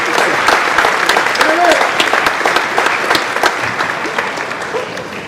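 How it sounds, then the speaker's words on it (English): A school audience claps for Mr. Gelfer, a string-instrument music teacher at a Farmingdale, New York middle school orchestra concert. The applause is dense and sustained, with some crowd voices, and slowly fades over several seconds. "So how about a round of applause for Mr. Gelfer"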